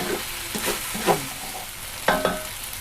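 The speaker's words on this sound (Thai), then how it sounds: "ผัดไส้ให้สุกเลยนะคะ" Spring roll filling being stir-fried in a pan, with a soft steady sizzle broken by several sharp scraping stirs of the spatula, close and fairly loud, with no voices.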